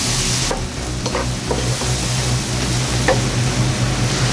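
Heavy cream poured and stirred into a pan of sizzling peppers, garlic and spice gives a loud, steady frying hiss with occasional spoon scrapes, close and continuous with no talking.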